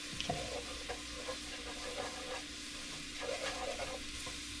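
Spices bloom in hot oil with a quiet, steady sizzle and occasional gentle stirring scrapes, close but low in level.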